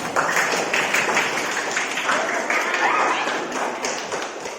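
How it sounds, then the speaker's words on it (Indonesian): A high school class of students claps together in a classroom; close, busy, continuous clapping with some tapping and thumping, lasting a few seconds at fairly high level. "Oke, tepuk tangan untuk kita semua."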